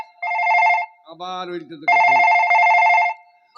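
A telephone rings loud and close in two long trilling bursts, with someone briefly talking in the gap between them.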